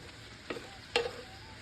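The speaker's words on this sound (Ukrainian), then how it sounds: "помішуючи, смажимо 10 хвилин." Onion, meat and carrot sizzle quietly in a pan while a utensil scrapes and stirs twice.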